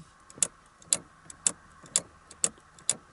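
Six crisp plastic clicks at an even, steady pace, about twice per second, from a side air vent being adjusted in the quiet cabin of a 2015 Mercedes-AMG GT S.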